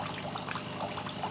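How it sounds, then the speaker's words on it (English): A De'Longhi Dinamica coffee machine rinsing water through its system during descaling, a steady close pour and trickle of liquid with bubbly splashing, continuous for the whole moment. "So this is partly the machine rinsing it."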